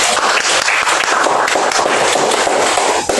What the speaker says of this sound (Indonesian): Tepuk tangan buat tokoh